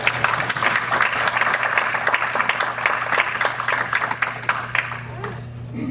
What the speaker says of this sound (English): I want a nice round of applause for Mike.